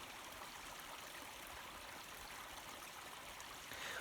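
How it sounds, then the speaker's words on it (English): A small stream fed by melting spring snow, splashing like a little waterfall, makes a steady broadband rush of running water that holds evenly through the whole stretch, with no voices. "It sounds like a little waterfall."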